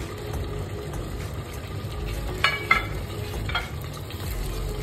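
Masala and tomatoes for kaddu ka dalcha sizzling in a pan, a steady close frying hiss with a few brief stirring clinks near the middle, without any talk.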